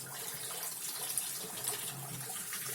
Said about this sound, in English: we have water coming out the hose